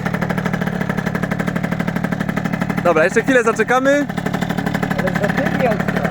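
A Yamaha TZR two-stroke motorcycle idles with a steady, buzzy, uneven putter and heavy smoke, while someone talks briefly over it midway.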